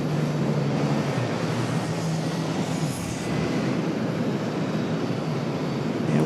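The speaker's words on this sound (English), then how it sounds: "You can hear the 777 getting a move on." Boeing 777 jet engines spooling up as the airliner starts moving at Charlotte airport, a steady, fairly loud broadband roar heard from a distance without a break.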